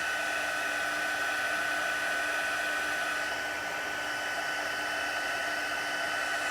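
Hot air roars steadily from a heat embossing tool as it melts gold embossing powder during a stamping craft session, a loud, continuous blowing hiss with no talk.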